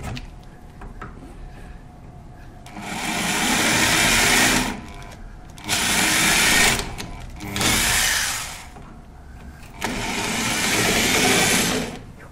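A power drill runs in four sustained bursts, whirring loud and close with short pauses between, while a door lock is being replaced.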